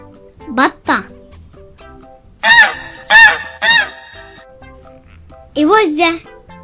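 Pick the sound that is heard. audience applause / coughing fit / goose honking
goose honking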